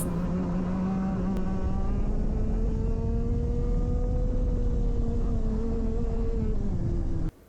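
A go-kart engine drives around a low-grip track, a close, steady buzzing drone whose pitch rises and dips slightly through the corners, running continuously before cutting off abruptly at the end.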